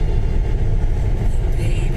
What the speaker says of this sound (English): Oh, they're going for the overtake now.